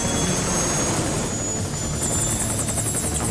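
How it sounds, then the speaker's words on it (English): An MI-24A attack helicopter in the video game Metal Gear Solid Peace Walker gives a loud, constant rotor and turbine roar with a high whine, close and unbroken throughout. "MI-24A, General Purpose Attack Helicopter."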